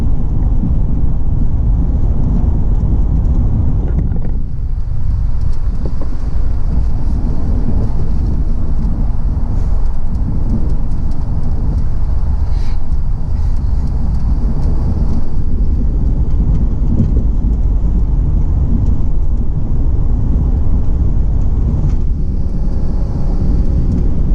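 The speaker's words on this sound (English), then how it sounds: "There you go, the last free drive through the tunnel" Car driving uphill through the Seattle highway tunnel, a loud, steady, low road and engine roar with wind rumble that fills the enclosed space throughout, no talking.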